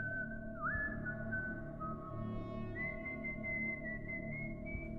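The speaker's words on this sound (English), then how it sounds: "It sounded like someone walking through the woods behind the house, whistling as they went." A lone person whistles a slow, wavering tune with uneven pitch, moderately close over a steady low background hum.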